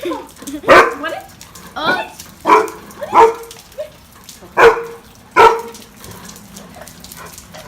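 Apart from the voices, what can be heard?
dogs barking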